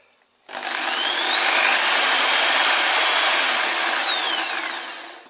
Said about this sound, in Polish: wiertarka w pełni sprawna